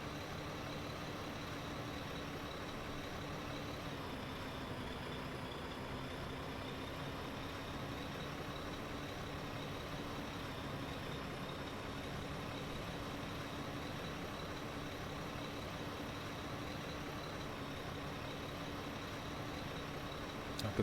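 A flatbed truck rolls along steadily in the war game Foxhole, its engine droning at a constant even pitch with a broad rumbling hum that barely changes over twenty seconds, no voices heard.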